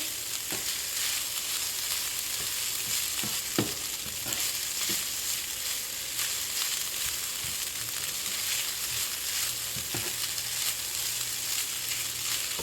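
Vegetarian fried rice made with jasmine rice hisses in a hot pan in a steady, loud sizzle. Occasional sharp spatula scrapes and taps sound as the rice is stirred and coated with seasoning.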